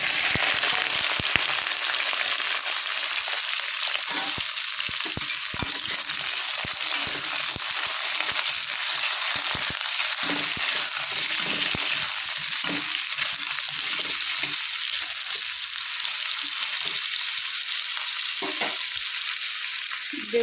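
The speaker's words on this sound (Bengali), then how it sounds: "এদিকে তেল গরম হয়ে গেছে, কেটে রাখা বেগুন দিয়ে দেবো।" Cut eggplant pieces fry in hot mustard oil, a loud, steady crackling sizzle that runs without break for about twenty seconds, with scattered sharper pops and spatters across it and no talking.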